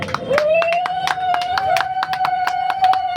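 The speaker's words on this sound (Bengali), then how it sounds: "একবার সবাই মিলে একটু জোরে হাততালি হবে" A crowd clapping at a Vishwakarma puja gathering: a quick, rhythmic series of sharp claps running throughout, over a sustained tone.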